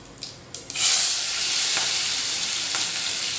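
Crushed green chili and garlic paste drops into hot oil and sizzles steadily as it is sautéed for a Marathi ambadi greens dish. The frying hiss is loud, close and continuous, with a few stirring scrapes.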